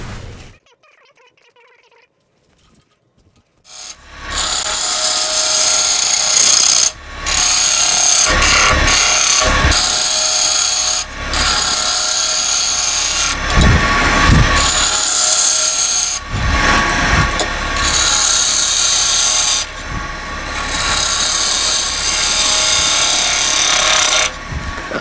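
A wood lathe shaves the bottom and sides of a natural edge hollow form, a loud, rough scraping and tearing from the gouge in repeated passes. It starts after a few near-silent seconds and is broken by short pauses.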